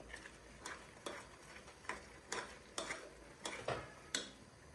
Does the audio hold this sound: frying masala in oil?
yes